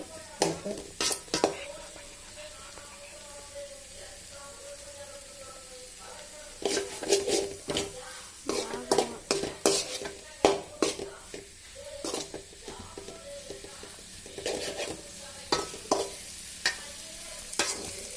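Capsicum stir-fry stirred in a pan over low heat, with repeated scraping and clattering strokes of a spatula in bursts over a soft, steady sizzle, close and moderately loud.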